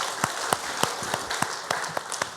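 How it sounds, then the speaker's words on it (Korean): A church congregation applauds during Sunday worship announcements. Claps sound close and fairly sparse, with distinct individual claps spread over a couple of seconds. "우리 수고하신 모든 분들께 감사하며 박수하겠습니다."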